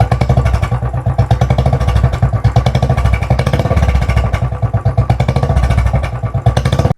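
A Royal Enfield Classic 500 motorcycle idles close by, its exhaust silencer giving a loud, steady, rapid thumping beat that holds even throughout.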